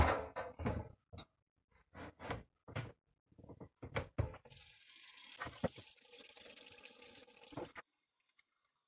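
Hot water runs from a tap into a sink while making Emmental cheese at home, a steady splashing rush that starts midway after several knocks and clunks, then cuts off.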